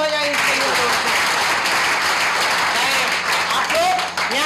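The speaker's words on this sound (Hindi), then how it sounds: "एक बार जोरदार तालियां हो जाए इसके लिए दोस्तों" An audience at a business seminar breaks into steady, enthusiastic clapping across the whole stretch. Faint voices sit under the clapping, and a short tonal squeal rises near the end.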